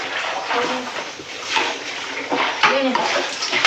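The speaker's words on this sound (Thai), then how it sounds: "น้ำฮ้อน" Hot water pouring in a steady, broad splashing rush in a home kitchen, continuous and close throughout, with faint voices in the background.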